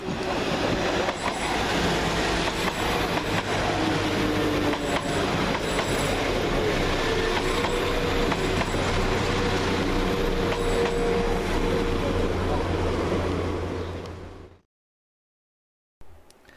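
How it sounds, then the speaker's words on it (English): West Midlands Railway Class 172 diesel units 172221 and 172219 arriving at Stourbridge Junction station, a loud, continuous engine rumble with rolling wheel noise, faint squeals and clicks, holding steady before cutting off abruptly. "172221 and 172219, arriving with the 1209 West Midlands Railway service from Whitlock's End to Worcester"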